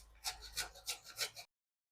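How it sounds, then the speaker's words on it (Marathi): Dry coconut being grated by hand for a masala for fried okra, four soft rasping scrapes in a steady rhythm, close and quiet, cut off abruptly after about a second and a half. "मसाल्यासाठी आपल्याला सुकं खोबरं पण लागणार आहे थोडं, ते किसून घेऊ"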